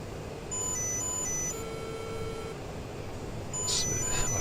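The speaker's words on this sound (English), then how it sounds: "we're getting lots of beeps and lots of chirps" Cockpit warning tones in the AJS 37 Viggen flight simulator during an anti-shipping run: steady, high electronic beeps and chirps that repeat in short bursts over a constant engine rumble.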